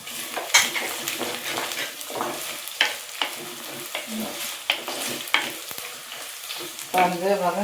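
Ten chopped shallots fry in hot oil in a pan, with an ongoing sizzle broken by repeated scraping and clinks of a spoon stirring against the metal, close and fairly loud, no voices.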